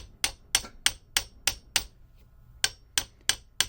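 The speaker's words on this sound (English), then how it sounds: "I'm using a carpenter's hammer, which is technically not the right type of hammer, but I'm just trying to tap on this" A carpenter's hammer taps on a stuck diamond part of a Blademaster skate sharpener, nine sharp metallic knocks in an uneven rhythm with a short pause midway, close and alone.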